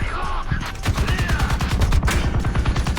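Rapid bursts of cannon and machine-gun fire from a War Thunder Mobile tank battle, dense rhythmic shots loud and continuous with game effects, a voice briefly audible underneath.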